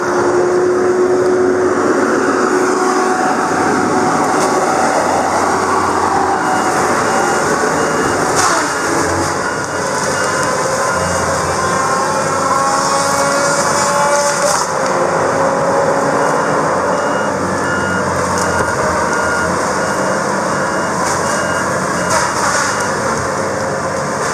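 Tigercat LX830D feller buncher tracking across a logging site and mowing down trees, a steady loud diesel engine roar with hydraulic whine and grinding, continuous without pauses and no talking.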